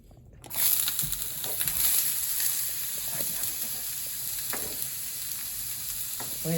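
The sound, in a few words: diced onions frying in a pan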